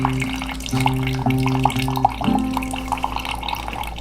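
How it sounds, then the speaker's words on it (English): Water trickles and splashes steadily as it is poured over ground coffee in a pour-over brewer, circling around the edges, a close continuous pouring sound with a low hum underneath. "to evenly distribute the water. Going around the edges to make sure that all the coffee's evenly being extracted."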